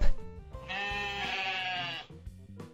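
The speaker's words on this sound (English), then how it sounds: "Sheep." A single sheep bleats loudly and close for about a second and a half, a wavering harmonic call framed by brief quieter sounds before and after, within a children's animal-sound puzzle game.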